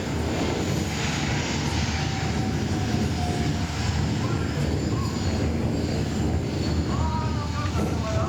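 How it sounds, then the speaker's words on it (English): A Russian Mi-17 transport helicopter gives a steady, loud, continuous engine and rotor roar throughout, broadband and unbroken with no voices over it. "This is a Russian Mi-17, commonly used to move people around."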